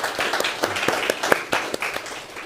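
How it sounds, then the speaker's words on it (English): Audience applause at a Vienna conference presenting the Global Terrorism Report 2025, steady clapping from a room full of listeners, dense and sustained without speech. "maybe a big round of applause"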